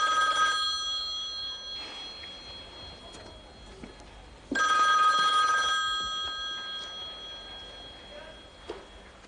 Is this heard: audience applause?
no